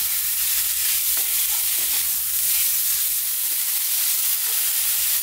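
Chicken pieces sizzle loudly in a pan over just-above-medium heat while being tossed, giving a dense, continuous hiss with faint scraping and movement throughout.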